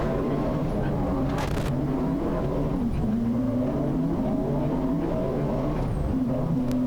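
Race car at Silverstone accelerating at high speed, a steady loud engine drone with rising and falling pitch as it revs through the gears, with talk heard alongside it.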